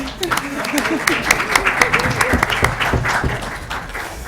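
An audience at a law lecture breaks into scattered but lively clapping, with individual claps standing out, while a few people talk over it and the sound gradually thins.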